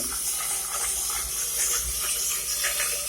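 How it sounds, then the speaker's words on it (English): Steam is blown through a sink's overflow hole into the drain, giving a steady, soft watery hiss and gurgle with no pauses. "We're going to cover the drain hole and blow through the overfill hole."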